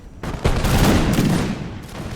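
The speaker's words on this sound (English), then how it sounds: "Nice shooting. Very nice shooting." A massed musket volley crashes out in a dense, rolling burst of overlapping shots during a battle of the First Anglo-Afghan War in a video game, loud and near, then decays into a fading rumble without talk.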